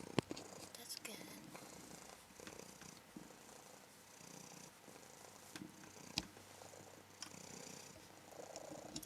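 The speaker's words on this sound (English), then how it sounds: "Her purring is coming through really nicely." A cat purrs softly and close up during a quiet bathing session, a faint continuous rumble mixed with small wet licking and rustling sounds.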